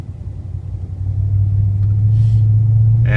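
A car drives through an intersection and turns onto Elliott in Mesa, Arizona, its steady low engine rumble growing louder after the first second and holding, with a brief higher burst near the end.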